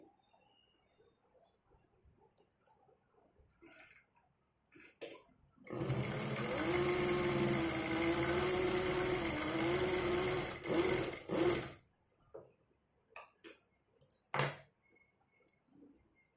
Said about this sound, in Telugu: వచ్చేసి ఇక్కడ లైనింగ్ మీదతో కుట్టు అయితే వేసుకోవాలి.